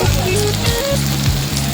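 Onion, tomato and turmeric sautéing in a pan for a dry fish roast give off a close, continuous sizzle, with a faint tonal hum running underneath.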